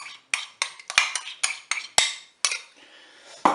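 A mustard and crème fraîche mixture being added and stirred into a Cookeo multicooker pot, heard as a series of sharp metallic clinks and scrapes in an irregular rhythm, close and fairly loud, with no talking.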